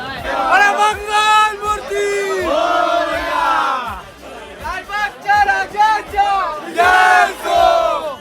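Dense crowd of devotees at the Lalbaugcha Raja pandal in Mumbai shouting chants in loud bursts, with voices rising and falling in waves close by.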